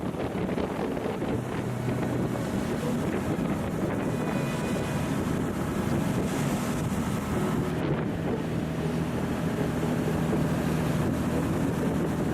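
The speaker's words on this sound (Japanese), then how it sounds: "風が強い。" Strong sea wind roars across the microphone aboard a sightseeing cruise boat off Dogashima, steady and loud for the whole stretch over the low drone of the boat and water.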